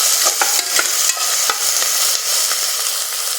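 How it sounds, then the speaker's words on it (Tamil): Onion, garlic and curry leaves sauté in a pan with a loud, close crackle of frying, broken by quick, repeated scrapes of a spoon stirring in an uneven rhythm. "வெங்காயம் பூண்டு கருவேப்பிலை போட்டு நல்லா வதக்கிடணும்"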